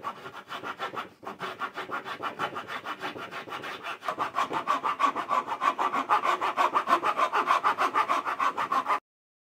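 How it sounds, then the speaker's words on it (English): Hacksaw blade cutting through wood to shape a gear circle, with steady rhythmic back-and-forth strokes that briefly pause and then resume faster and louder, close up, before stopping abruptly. "You could use a hacksaw blade."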